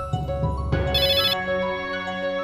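A phone ringtone plays a bright electronic melody, loud and close, with layered tones shifting over a couple of seconds.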